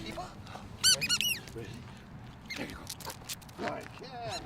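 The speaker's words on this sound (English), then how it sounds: "After all that work, Abby's favorite treat is her squeaky ball" A sewage-sniffing working dog's squeaky ball toy gives a quick burst of high squeaks amid outdoor noise and rustling, with a person talking.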